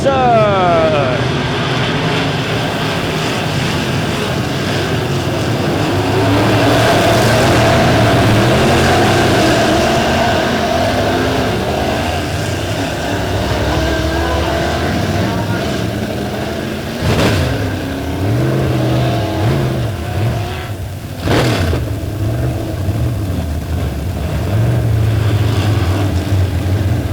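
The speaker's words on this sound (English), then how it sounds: "you're getting ready to see it as the green flag is out and we're racing" USRA B-Modified race cars racing at Lebanon Midway Speedway during the Tony Roper Memorial A-Main, a loud continuous roar of engines revving and passing through the whole stretch, with an announcer's voice over the din.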